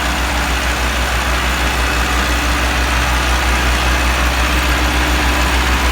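A Massey Ferguson MF 385 tractor engine runs steadily in a field, a loud continuous low diesel drone with an even throbbing pulse and no speech.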